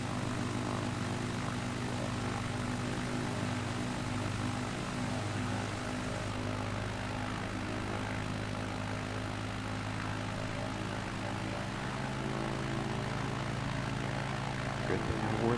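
A small propeller plane climbs just after takeoff on a flight over the Andes, its engine droning steadily and loudly throughout, heard from inside with no talk.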